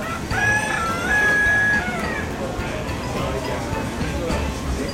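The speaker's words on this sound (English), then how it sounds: "soon he will stop clucking" A rooster crows loudly and clearly near a restaurant in the Caribbean, one drawn-out call over a busy background of outdoor noise and murmuring voices.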